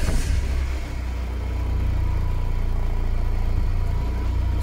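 A Renault Espace IV engine in limp-home emergency mode with a fault code turns over and settles into a steady, low idle, a constant rumble with no voices.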